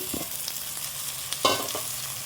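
Chopped tomatoes go into a pan of fried onions, giving a soft steady sizzle with a couple of brief stirring scrapes and clatters, close and fairly quiet.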